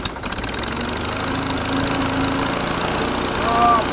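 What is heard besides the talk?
old gas wood splitter engine starting up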